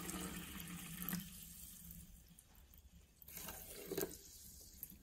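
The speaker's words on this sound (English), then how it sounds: "Let's pour some water in." Sparkling water is poured into a cup for a pH and TDS test, giving a bright fizzy splash that runs for about a second, pauses, then returns in shorter bursts of pouring and settling bubbles.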